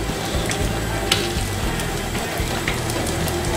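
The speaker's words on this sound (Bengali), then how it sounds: "পাকুড়াগুলো হয়ে গেছে আমি বারবার উল্টে পাল্টে ভালো করে ভেজে নিয়েছি" Chicken pakoras fry in hot oil, a steady dense sizzle and crackle with occasional sharper pops, close and continuous throughout.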